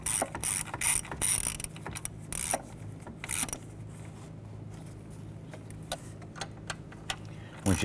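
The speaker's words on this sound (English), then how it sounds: "we'll go ahead and snug it down with our ratchet" A ratchet snugging down the EGR pressure feedback sensor bolt on a 1993-1997 Ford Ranger gives a series of short, close clicks in uneven bursts over a steady low hum.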